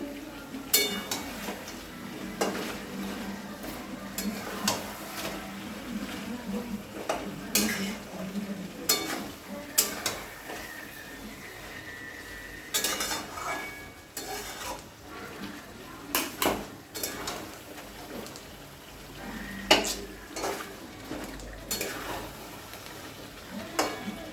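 Chicken fried with poppy seed gets stirred in a pan, with repeated scraping and clinking of a spoon against the metal over a soft sizzle, coming in irregular bursts with short pauses between.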